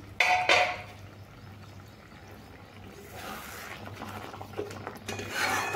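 A ridge gourd and poppy seed curry gets stirred in a pan, the utensil giving soft intermittent scraping and rubbing against the pan, with one sharper clink near the start and a low steady hum underneath.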